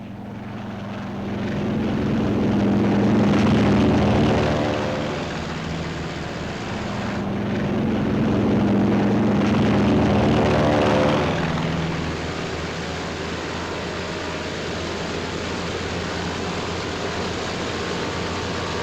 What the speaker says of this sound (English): Our entire air group thunders out behind the group commander.